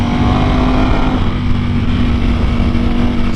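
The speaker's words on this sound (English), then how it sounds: "I could hear that dry clutch, that open clutch" A Ducati Panigale V4R with an open dry clutch and an Akrapovic exhaust runs at close range, a loud, steady engine drone with wind noise and no clear revving.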